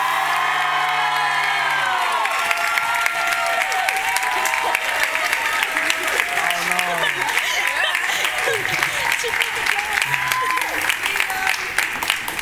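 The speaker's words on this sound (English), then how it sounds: "Can we all get a round of applause?" An audience at a school drama production of Cinderella applauds and cheers for Mrs. Bryan, an educator, with sustained dense clapping, scattered whoops and children's shouts, and voices rising over the crowd throughout.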